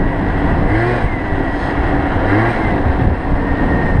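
An MBK Booster 50 scooter engine drones steadily at about 75 km/h, with a loud, continuous buzzing hum and wind rush and no pauses.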